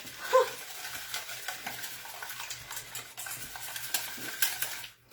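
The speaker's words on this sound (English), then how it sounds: "it's just scrambled eggs. And that's what I'm doing." Eggs for fried rice are stirred and scrambled in a hot wok, giving a soft sizzle under close scraping and clinking of a utensil against the pan.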